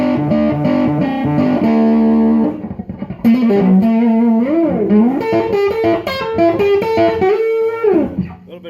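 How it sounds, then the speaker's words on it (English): An electric guitar plays chords and bent notes through a crunchy, overdriven amp, the tone gritty and clipped, loud and close. "A little bit of clipping, distortion going on."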